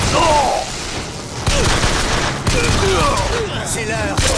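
Dense gunfire from the video game BioShock Infinite rattles in loud, continuous bursts with short pauses, together with a few scattered game effects.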